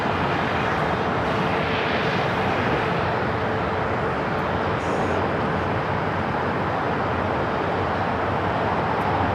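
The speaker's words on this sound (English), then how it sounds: "Spirits and a one-year-old A320 Neo heading to Atlanta, flight 836 up next for takeoff here on the south side" A one-year-old Spirit Airbus A320neo takes off from the south side of LAX, a loud, steady jet engine roar with broad rumble that stays close and constant throughout, with no voices.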